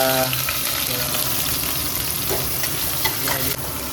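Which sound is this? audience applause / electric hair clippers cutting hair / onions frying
onions frying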